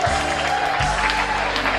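An audience bursts into warm applause to welcome the judges at a banquet-hall food and beauty contest in a costume comedy, with dense steady clapping over music, and the crowd holds it throughout.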